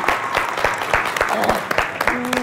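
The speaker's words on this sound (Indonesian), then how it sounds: "tepuk tangan dulu untuk kedua Tim" Applause for both teams at a lively game show event: scattered, fairly close hand claps from a small crowd, mixed with voices and laughter.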